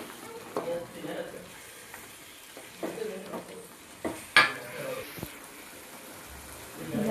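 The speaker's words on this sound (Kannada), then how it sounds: "ಈ ಥರ ಫ್ರೈ ಮಾಡ್ಕೊಂಡು ಮಸಾಲೆ ಎಲ್ಲ ಚಿಕನಿಗೆ ಅಂಟ್ಕೊಂಡ್ರೆ ತುಂಬ ಚೆನ್ನಾಗಿರುತ್ತೆ" Chicken pieces coated in ground masala fry in a pan, with soft sizzling beneath intermittent stirring and sharp clinks of a spoon against the metal pan, close and moderately loud.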